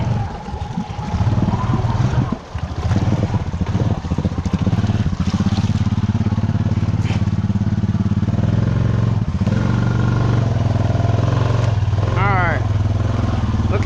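A four-wheeler ATV engine rumbles loud and close after crossing a sandy creek. It holds a steady, throaty idle throughout while people talk over it.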